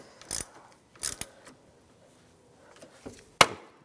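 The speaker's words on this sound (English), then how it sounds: "Snug it down with a 10mm socket." Ratchet snugging down a 10mm socket on a 2010-2016 Cadillac SRX battery terminal, a few short close clicking bursts separated by pauses, ending with a sharper click.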